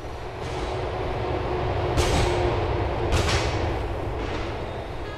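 A subway train in Grand Theft Auto IV rumbles steadily along the tracks, with a few sharp bright clatters and hisses rising over the continuous low roar.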